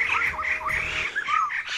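Birds in Nainital squawk and chirp in quick, overlapping calls that fill the background steadily.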